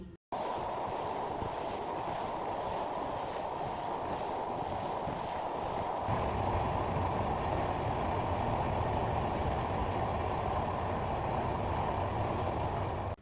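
A train crossing the Padma Bridge on the Dhaka–Kushtia route runs with a constant rumbling roar and rattle, growing slightly heavier partway through, heard from inside the carriage.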